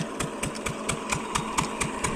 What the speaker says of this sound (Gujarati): અને તમે જોઈ શકો છો મશીન પણ શરૂ છે.